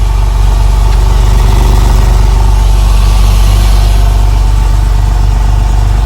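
A Porsche 996 engine idles loud and steady with constant low rumble throughout, valve lifters ticking under the drone.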